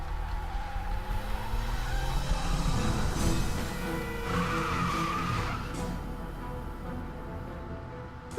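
A sports car in the video game Broken Sword: The Sleeping Dragon skids past with squealing tires and a roaring engine, loud and close, swelling then fading away over several seconds with no speech.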